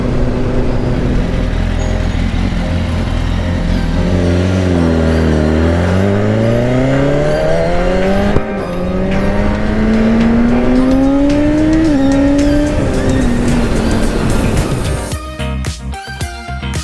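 A car drives along a road toward a highway near Paris on a road trip through France, its engine droning loudly and steadily while rising and falling in pitch through gear changes, with no voices.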